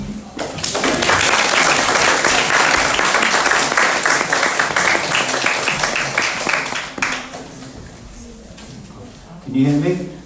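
An audience at a poetry and spoken word open mic applauds to welcome the featured poet, a dense burst of clapping that fades after several seconds before a voice begins speaking.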